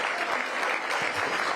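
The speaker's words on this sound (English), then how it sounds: "Give Rosie a big round of applause." An audience applauds for Rosie Rios at the DC250 Commission kickoff hosted by the mayor, a brief, dense burst of clapping, fairly loud and continuous.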